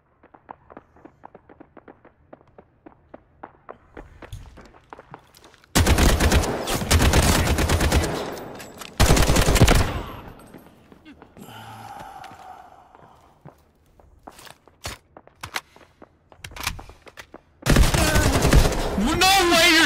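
Gunfire in the video game Delta Force rattles out in several loud bursts, long automatic volleys separated by quieter stretches of footsteps and small movements.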